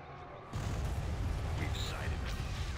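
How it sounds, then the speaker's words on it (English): Orbital bombardment in Star Wars: Empire at War, a deep rumbling barrage of explosions that starts abruptly and rolls on continuously with scattered crackles on top. "Let's orbital bombard here."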